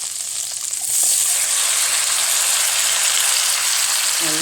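Boiled cassava and sweet potato sautéing in butter, a steady close hiss of frying that swells louder after the first second and holds evenly.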